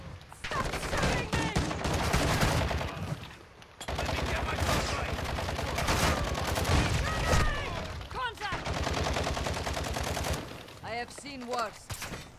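Rapid gunfire in Call of Duty: Modern Warfare II, with dense bursts of automatic shots and a brief lull partway through, while a voice talks over the shooting.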